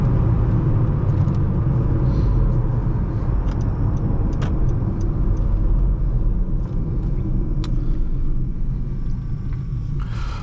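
Manual 2015 Honda Civic LX driven on the road, a steady low engine and road rumble with a few faint clicks and knocks, with no clear rise in revs.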